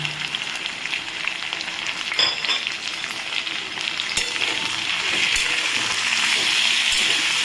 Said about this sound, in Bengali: এবারে আমি এতে এই পেঁয়াজ আদা রসুন বাটাটা দিয়ে দিলাম